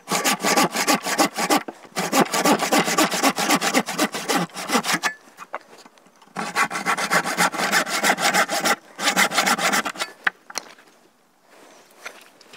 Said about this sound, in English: Now I'll take my handsaw and I'll finish that cut.